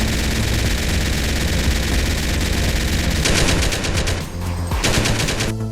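Rapid automatic gunfire in a modded GTA San Andreas with a recoil mod, loud and continuous bursts of shots filling the clip with dense, rattling reports and a brief dip before firing resumes.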